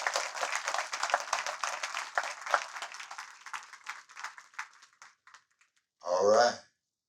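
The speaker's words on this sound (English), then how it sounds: "Come on, give her another round of applause," Audience applause for a poet at a reading: dense clapping that thins out over about five seconds, followed by a brief separate voice or exclamation near the end.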